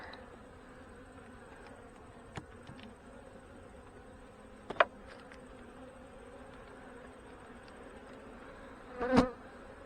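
Honey bees hum softly during a hive inspection at a fireweed site, a faint steady drone broken by a few sharp clicks and knocks, the last one louder.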